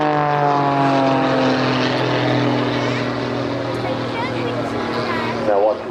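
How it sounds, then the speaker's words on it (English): Muscle Pitts aerobatic propeller biplane flown at the Blackpool Airshow, its engine droning loud and steady with a shifting pitch throughout, while a commentator talks over it. "Now watch as the aircraft pitches up"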